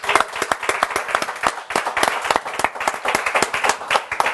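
A small, close audience at a television variety show applauds a singer with crisp, distinct hand claps in an uneven, lively rhythm that stays loud throughout.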